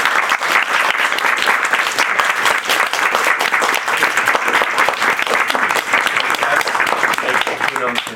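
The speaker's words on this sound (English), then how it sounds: "another round of applause for our wonderful." Warm audience applause following a poetry reading at a hybrid bookstore event, a dense and steady round of clapping that carries on without a break until it fades at the very end.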